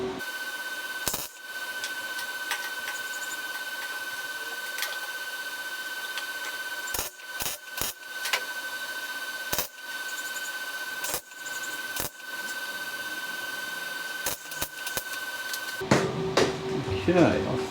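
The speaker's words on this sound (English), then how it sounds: "let's get it tacked, then we can take the handle off and fully weld it in." Tack welding a pressed panel onto a 1957 VW Beetle bonnet, with a steady electric buzz broken by short crackling weld bursts at irregular intervals and brief voices near the end.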